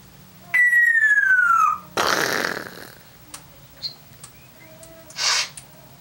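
A pet bird gives a long clear whistle that slides downward, followed by a harsh noisy burst and then a few short chirps and clicks, all close by in a quiet indoor room.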